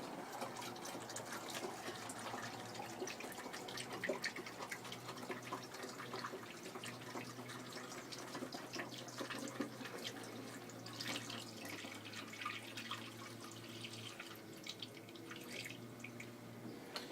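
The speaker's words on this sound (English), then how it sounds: "we're just going to go ahead and pour that in there." Orange juice pours steadily into a container for a long stretch, a continuous close splashing gurgle with faint drips and no talking.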